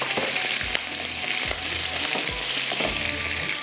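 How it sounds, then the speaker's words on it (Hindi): Irani kebabs frying in hot oil on high flame, a steady loud sizzle throughout with periodic low thumps and clinks as the pieces are moved. "अब ये गर्म हुआ है ऑयल, अब इसको तेज़ आग पर फ्राई करेंगे"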